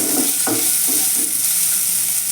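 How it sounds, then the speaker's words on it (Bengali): Sliced garlic sizzles steadily in hot oil in a pan for a restaurant-style chicken soup, with a few soft scraping stirs near the start over a continuous close frying hiss. "এটা দিয়ে দিচ্ছি ভালো করে একটু নেড়ে চেড়ে"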